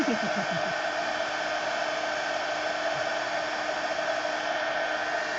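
A hair dryer blowing on an acrylic-painted art journal page, a loud steady whooshing drone held without break, close by, with no talk over it.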